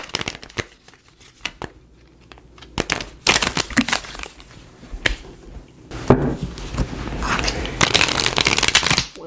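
Tarot cards are shuffled by hand in a quiet room, giving bursts of papery riffling and soft flapping clicks that come irregularly and grow busier toward the end, close and fairly faint.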